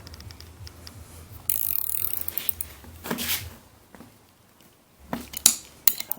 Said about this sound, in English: maybe you may be able to use a little ratcheting dealy